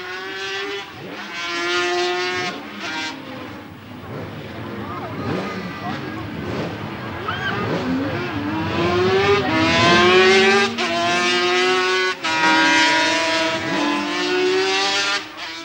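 A racing sidecar motorcycle engine revs hard at a 1980s sidecar race, its harmonic whine climbing and falling through repeated gear changes, loud and close, while a person speaks over it in places.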